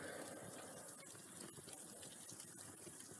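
Soft, steady sizzling and crackling, a faint hissing texture with a few small pops, heard close and quiet: pizza cheese and sauce bubbling in a wood-fired oven.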